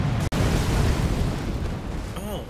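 Fire rocks kicked by a boss in Elden Ring burst with a sharp crack, then a sustained roaring, rumbling explosion that stays loud and close before tapering off.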